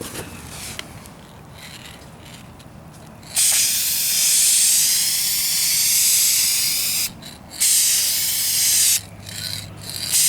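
Duplicolor Perfect Match spray paint hisses onto the rear bumper of a 2004 Kia Spectra in loud, close bursts, a long spray followed by a shorter one, with faint can rattles and handling noise between them.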